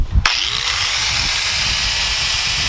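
A power grinder cuts into a Mustang decklid, starting with a sharp burst and then holding a loud, steady whine and rasp for a few seconds, close up with no talking.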